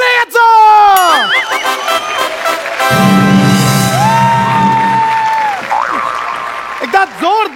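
A studio audience at a Marathi comedy show breaks into loud applause with cheers and whoops as a contestant is welcomed, sustained for several seconds while a host speaks and music plays over it.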